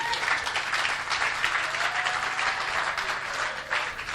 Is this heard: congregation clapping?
yes